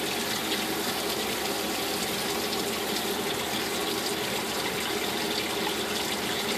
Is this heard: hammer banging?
no